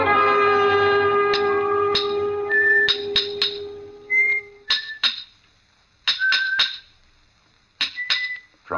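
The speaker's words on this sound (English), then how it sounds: "From the yard itself came a cheery whistle" A man whistles a cheery, melodic tune in a stonemason's yard in a radio drama. Sharp metallic clinks of hammer blows on steel and stone cut in and then take over, ringing out in short separated strikes.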